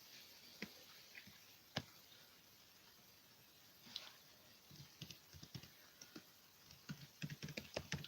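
Keys on a computer keyboard tap quietly and close by, sparse and irregular at first, then settling into quicker bursts of typing toward the end.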